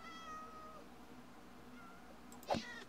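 A video game cat gives one short meow with a rising, strained edge, brief and fairly clear over a quiet background of faint game sounds.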